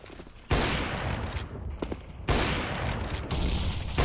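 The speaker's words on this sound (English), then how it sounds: "Oh, that nade. That's a nice beefy nade." A beefy grenade blast in a competitive shooter match, two heavy loud bursts with sustained rumbling debris and crackle between them, up close and dominating.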